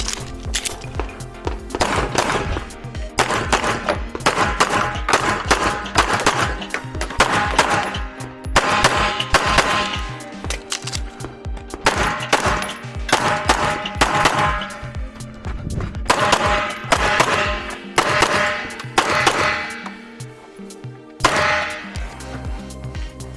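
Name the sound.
pistol gunshots during USPSA shooting stage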